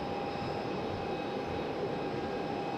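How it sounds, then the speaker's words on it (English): American Airlines CRJ regional jet on final approach at Raleigh-Durham airport, a steady distant engine roar with a faint high whine, constant and unbroken throughout. "American CRJ is on final."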